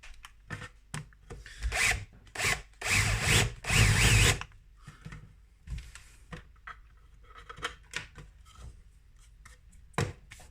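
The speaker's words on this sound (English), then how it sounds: "I'm just going to use a countersink bit quickly." A power drill fitted with a countersink bit runs in several short, loud bursts on a small electronics build. Quieter clicks and handling knocks fill the gaps between bursts, all close by.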